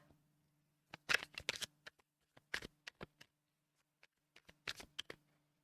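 Tarot cards are shuffled and laid out close by, with soft papery riffles and flicks in clustered bursts separated by short silences.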